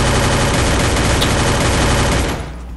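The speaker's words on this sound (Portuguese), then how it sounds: "Nossa senhora, o cara me deu muito tiro, meu bem." Rapid automatic gunfire from the Free Fire mobile battle royale game, a dense, loud, continuous burst of shots lasting over two seconds before cutting off abruptly, with no voices.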